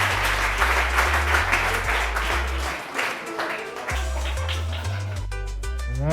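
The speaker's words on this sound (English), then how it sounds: "Let's clap for Chira." Audience at a school youth civic participation event clapping for a speaker, a sustained round of applause with a steady low hum underneath and a short dip before the clapping swells again.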